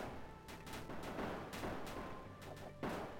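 Musketeers fire their guns in the strategy game Grim Nights, sending several sharp shots cracking out at irregular intervals over a dense, rumbling battle din at mid distance.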